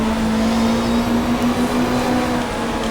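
Touring cars racing at Lakeside in the GTR2 video game, 1995 Australian Super Touring Championship, give a steady, loud, droning engine roar that holds at high revs throughout without a break.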